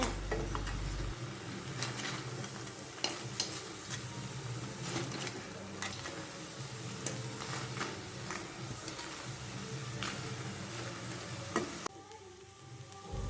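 Crab pieces fry in a pan on medium flame while being stirred, a steady sizzle with scattered sharp clinks and scrapes of the spoon, close and moderately loud, broken by a brief drop near the end.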